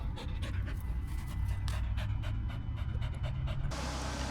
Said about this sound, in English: We got puppies in the backyard.